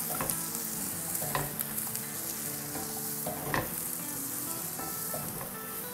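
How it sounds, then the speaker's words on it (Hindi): Bell peppers and other vegetables stir-frying with ginger and garlic in a hot pan, with a steady close sizzle and occasional scraping stirs throughout, no talking. "हमारी वेजिटेबल्स जो है वो थोड़ी बहुत फ्राई हो गई है"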